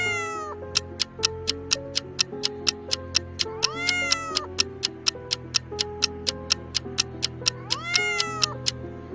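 A cat meows twice in rising, drawn-out calls over a steady, regular ticking like a clock, fairly close and clear with no talking.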